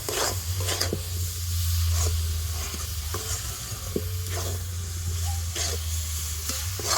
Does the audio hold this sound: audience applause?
no